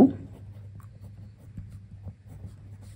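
Pen or pencil writing out a math solution, finding an LCM for a class 6 problem: faint, soft scratching strokes close by, steady and quiet under a low background hum, with no talk.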